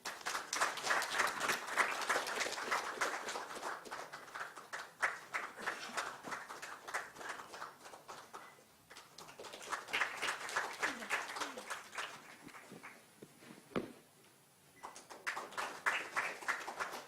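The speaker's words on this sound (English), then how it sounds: "A big round of applause for" An audience at a stage ceremony applauds with dense, sustained clapping that swells and fades, briefly dropping off near the end before picking up again.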